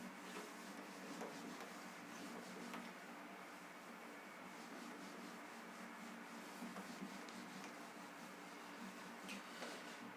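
A duster rubs back and forth over a classroom board, wiping off written notes during a chemistry lesson. The soft scrubbing hiss runs continuously for several seconds at low volume, with no talking.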